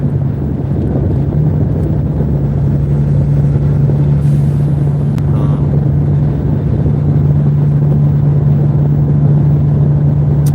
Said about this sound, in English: This semi-truck's like all over my fucking way.